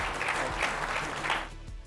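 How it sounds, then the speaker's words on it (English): Audience applause for the panelists at a high-level cybersecurity panel session, a steady wash of clapping lasting about two seconds at moderate level, tapering slightly toward the end. "Can we give them a round of applause, please?"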